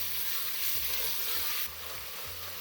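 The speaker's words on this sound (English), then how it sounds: "you keep frying the mince in the onions, and the mince will release its own juices" Chicken mince fries with onions in a pan, giving a steady close sizzle with faint stirring scrapes, dropping slightly in level near the end.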